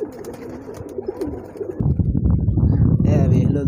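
Pigeon cooing mixed with water splashing and rustling as a thirsty young pigeon is given water, the soft coos running under nearby activity and getting busier and louder toward the end.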